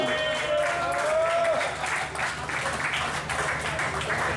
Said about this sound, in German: Kräftigen Applaus für das Team Regner Witzmann